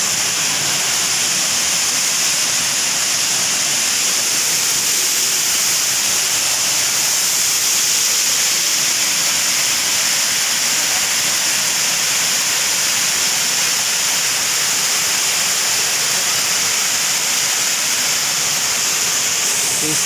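Steady, dense rush of falling water from Mahayahay Falls in Matalom, Leyte, Philippines, a loud continuous roar that holds unbroken throughout with no voices over it.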